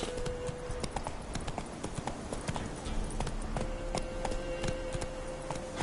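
Horse galloping in a video game, with rapid rhythmic hoofbeats throughout, close and prominent, and a faint voice briefly heard over the galloping.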